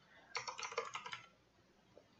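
Code typed on a computer keyboard, a quick, faint run of clustered key clicks lasting under a second, followed by near silence with one soft tap.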